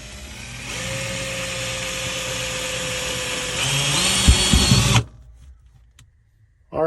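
A power drill bores a pilot hole in a bathroom wall of an Embassy Dolphin motorhome to hang a storage box. The motor whines steadily for about five seconds, rises in pitch under load, then stops.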